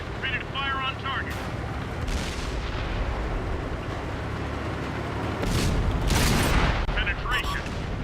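A tank gun fires in War Stories: Flashpoint Berlin, a heavy boom rising over rumbling engine noise and battlefield ambience, with short radio chirps around it.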